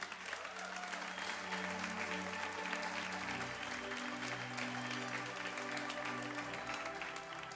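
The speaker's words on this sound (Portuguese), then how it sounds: "pode aplaudir o Senhor" A church congregation applauding together, a continuous wash of many hands clapping steadily for several seconds with faint music tones underneath and no speech.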